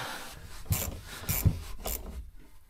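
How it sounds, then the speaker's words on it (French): A screw is driven by hand in a cramped spot during electrical wiring in a camper truck, heard as a few close, rasping turns and scrapes in uneven bursts, with no talking. "Pourquoi j'arrive pas à visser, merde? Pas beaucoup de place."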